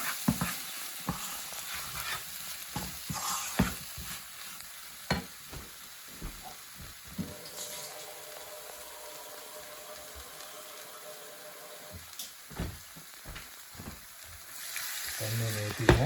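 Water poured into ground curry masala frying in a pan for a Tamil-style chicken curry, giving sizzling and bubbling with stirring scrapes and splashes over about sixteen seconds, fairly close and moderately loud.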